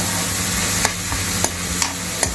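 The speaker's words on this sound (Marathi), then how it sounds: "चांगलं परतून घ्यायचं." Mutton keema sizzles with spices in a hot pan, a steady close frying hiss broken by a few crisp scrapes of a spoon stirring the mince.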